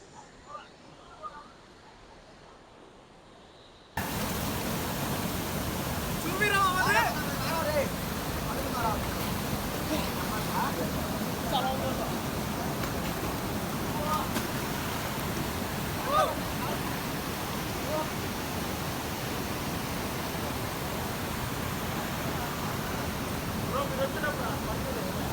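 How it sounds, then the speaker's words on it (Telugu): Siddeshwara Sivakona waterfall near Nellore pours in a dense, steady broadband rush that starts abruptly after a few quiet seconds and stays loud and close for the rest of the clip. "అది మన స్టార్టింగ్ ఫస్ట్ వాటర్ ఫాల్"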